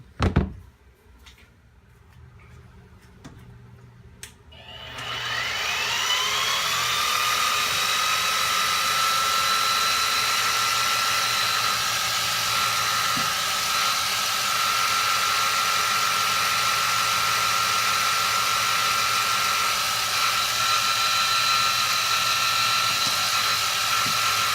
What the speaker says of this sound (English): But first, got to drill the rivets out.